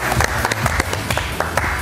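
An audience at a theater event applauds as actors are invited onto the stage, giving dense, steady clapping close by for nearly two seconds.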